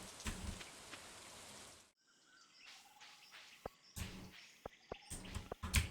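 Steady rain falls in the farming video game Stardew Valley, a dense hiss that cuts out for a moment midway, then returns with sharp drip-like ticks and faint chirps over it.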